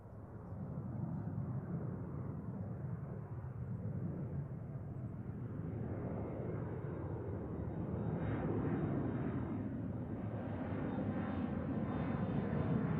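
A Delta jet airliner taking off from runway 34 right at Seattle, its engines producing a steady, loud roar that builds gradually and holds, with a faint whine riding on top.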